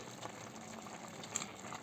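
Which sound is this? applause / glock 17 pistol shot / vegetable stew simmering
vegetable stew simmering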